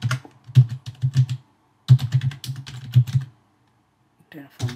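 Quick bursts of key clatter from a computer keyboard as a Terraform plan command is typed into a terminal, brisk uneven clicks in two runs separated by a brief pause, close and clear.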